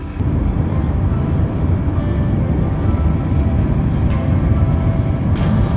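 A loud, steady low rumble of a large train rolling past nearby, droning without a break throughout.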